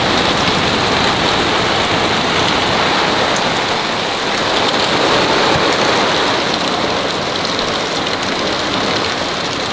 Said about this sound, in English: Rain is coming down.